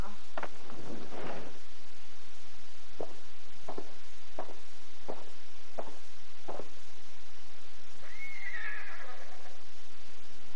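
A horse in the video game Ghost of Tsushima gives a loud, close whinny near the end, after a run of regular hoof clip-clops at a walk over steady game ambience.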